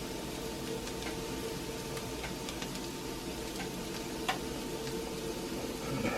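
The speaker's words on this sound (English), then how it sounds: "Let me go ahead and just start frying." Steady sizzling and crackling of dredged Spam frying in a hot cast iron pan, with scattered small pops and spatters throughout.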